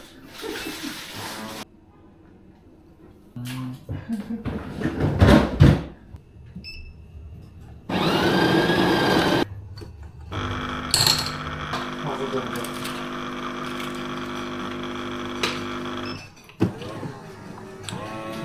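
A home coffee machine runs for an iced dark roast coffee, with loud steady mechanical whirring in two long stretches, broken by knocks, clatter and brief quieter gaps.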